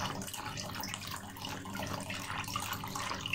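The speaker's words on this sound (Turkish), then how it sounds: "suyumu süzüyorum" Water pours and drains from a jar of black olives in brine, a steady close splashing trickle with no voices.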